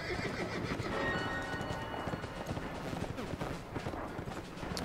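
A horse in the video game The Escapists 2 whinnies near the start, and its hooves clop rapidly and steadily throughout, loud and close, with no talk.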